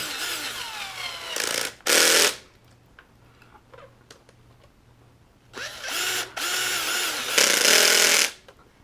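A power tool drives screws into an X-Maxx RC truck chassis in several short whirring bursts, two near the start and three later, separated by quiet pauses and faint handling clicks.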